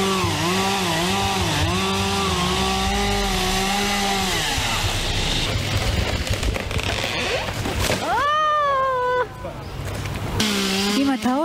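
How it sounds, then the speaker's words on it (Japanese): A loud chainsaw runs close by, cutting the trunk of a felled cherry tree, its pitch rising and dropping as it bites into wood, with a voice speaking briefly between bursts. "今ね、幹をチェーンソーで切っています。"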